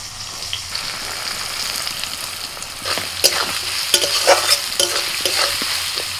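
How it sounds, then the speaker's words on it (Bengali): Chopped onion hits hot oil already fragrant with bay leaf, cardamom, cinnamon and clove, sizzling steadily while a spoon scrapes and stirs through it in repeated strokes, close and clear with no talking. "ফোড়নটা হয়ে গেছে, দিচ্ছি পেঁয়াজ কুচি"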